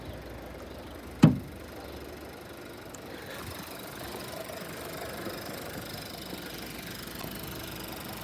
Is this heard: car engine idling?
yes